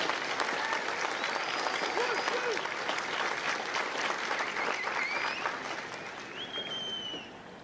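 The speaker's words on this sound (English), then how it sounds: "Please join me in a round of applause for the company staff of Hotel Company." Applause from a large audience at a Marine Corps recruit graduation ceremony at MCRD San Diego, a dense, steady clapping that holds loud for most of the stretch before easing slightly near the end, with faint voices mixed in.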